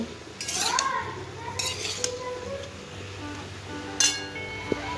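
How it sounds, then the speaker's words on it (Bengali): Mixed vegetables with chopped mushrooms being stirred in a pan: scattered utensil scrapes and light clinks against the pan over a low steady background, with one sharper metallic tap near the end. "এগুলো দিতে দিতে আমি ভালোভাবে সবগুলো নাড়াচাড়া করে নেব।"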